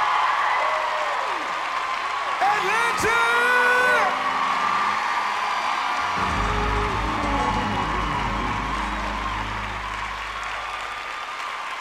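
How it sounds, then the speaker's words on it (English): A gospel concert audience claps and cheers loudly in a large hall, the applause filling the space while someone shouts over the crowd and a sustained chord rings beneath. "Clap your hands."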